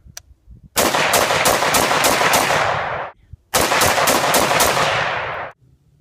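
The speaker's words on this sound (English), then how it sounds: "The gas actually cycles the next rounds, and you can shoot multiple rounds with this gun." An AR-15 style gas-operated rifle fires two loud, close bursts of rapid shots, each string of about six quick rounds ringing out with a short pause between, no talking.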